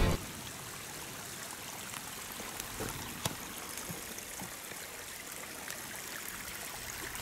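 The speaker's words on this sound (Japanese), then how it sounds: "道が川になってる" Rainwater streaming down a hiking trail on Mount Takao, a steady close trickling and gurgling flow with scattered small splashes throughout.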